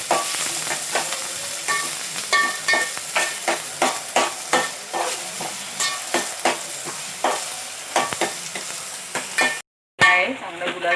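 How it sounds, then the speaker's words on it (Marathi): Two or three finely chopped onions fry in hot oil for a prawn masala, a loud steady sizzle broken by rhythmic scraping strokes of stirring throughout, with a brief cutout near the end. "तेल गरम केल्यानंतर थोडा कांदा, त्याच्यात 2-3 कांदे बारीक चिरून हे करायचं, फ्राय करायचे."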